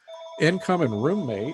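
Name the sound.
phone ringing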